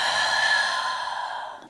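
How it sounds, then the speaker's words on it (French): A long, breathy exhale pushed out through an open mouth during a yoga breathing exercise, a steady airy hiss that slowly fades over nearly two seconds, close to the microphone, with no talking. "Ouvre la bouche, expire."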